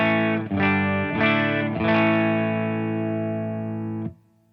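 Electric guitar, a Telecaster played through a POD Go amp preset with a matching cab and a touch of reverb, strikes three strummed chords in quick succession, then lets the last one ring out clean and loud before it cuts off.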